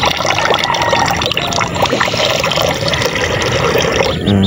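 Domestic ducks swimming in water at a backyard poultry area, giving a continuous close splashing and trickling wash with no talk.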